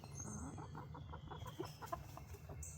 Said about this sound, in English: She's a purebred chicken.